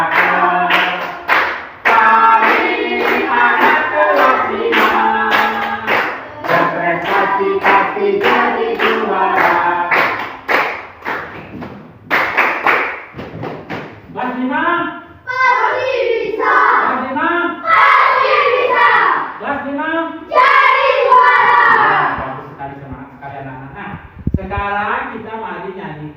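A class of fifth-grade children sings together in a classroom while clapping their hands, with steady rhythmic claps running under the loud group singing and some breaks between verses.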